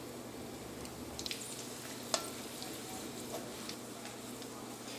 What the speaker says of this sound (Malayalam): നമ്മുടെ ഉണക്കമുളകും ആ വെളിച്ചെണ്ണയിൽ കിടന്ന് നന്നായിട്ട് മുരിഞ്ഞിട്ടുണ്ട്